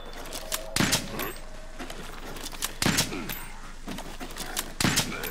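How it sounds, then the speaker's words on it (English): In the video game Monster Hunter World, barrel bombs go off in the hunt against Tzitzi-Ya-Ku. Several sharp, loud blasts land at irregular intervals over softer game sounds. "We are going to barrel bomb."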